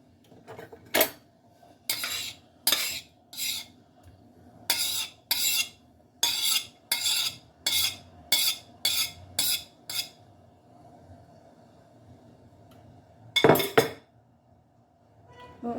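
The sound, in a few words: stirring banana mixture in a saucepan with a large spoon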